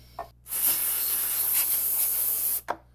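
Electronic cleaner sprayed onto a Jeep XJ HVAC control panel: a single steady, close hiss lasting about two seconds, preceded and followed by brief soft clicks or handling sounds.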